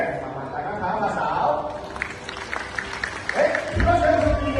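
An audience clapping hands at a live stage event in a brief scattered round, mixed with crowd noise while a presenter talks over it.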